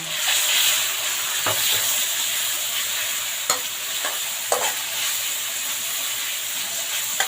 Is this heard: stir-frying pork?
yes